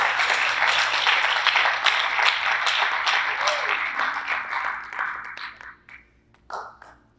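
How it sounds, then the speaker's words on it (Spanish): Church congregation applauding during a Spanish-language youth worship service, a broad sustained wash of clapping that holds steady for several seconds before thinning out and fading near the end. "denle un aplauso a Dios"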